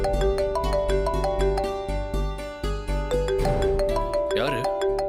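Mobile phone ringing with an incoming call in a domestic drama scene: a repeating melodic ringtone plays in steady pulses over low background music, with a brief louder burst near the end.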